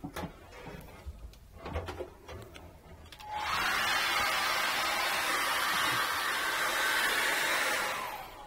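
A hair dryer switches on to dry paint on a canvas during a landscape painting lesson. It follows a few seconds of faint handling clatter and then blows as a steady, loud, breathy whoosh until it cuts off at the end.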